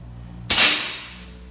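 A single sharp air rifle shot from a customized carbine with its adjustable valve removed cracks out with a sudden onset, then trails off in a fading ring, alone against a quiet background.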